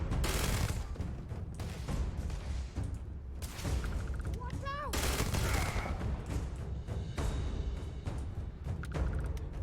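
Gunfire in the video game Starfield crackles in rapid bursts and dense volleys with thudding impacts, loud and close, continuing almost without pause.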